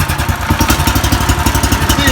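A Predator 13hp small engine fitted to an EZGO golf cart runs at a close, loud, steady idle, its rhythmic thumping putter carrying on throughout.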